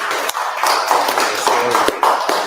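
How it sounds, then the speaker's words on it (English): Scattered hand claps at a religious gathering, irregular sharp slaps with a few louder claps standing out, fairly close, with murmuring voices mixed in. "Let's give a round of applause."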